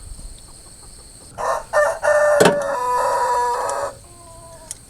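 A rooster crows nearby, a couple of short clucks leading into one long, loud cock-a-doodle-doo that trails off, with faint outdoor background.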